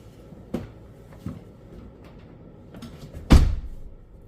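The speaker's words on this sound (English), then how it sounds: "the real test will be me closing the door" A 2005 Skoda Superb car door, after a door lock repair, is swung shut: a few light knocks and clicks, then one solid, close thud that rings out briefly before quiet.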